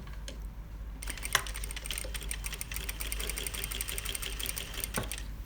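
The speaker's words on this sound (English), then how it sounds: "So I'm just stitching all the way down." A sewing machine runs steadily, stitching a seam in fabric along a corner or angled edge, with a fast, even mechanical chatter that carries on alone throughout.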